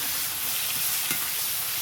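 Tomatoes with salt fry in a pan, giving a steady, close sizzle with faint stirring scrapes and no speech.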